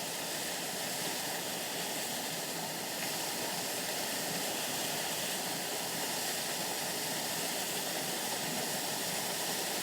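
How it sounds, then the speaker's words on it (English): Grey Mare's Tail waterfall in the Scottish Borders gives a faint, even rush of falling water, steady and unbroken from start to finish with no other sounds. "as the water trickles down."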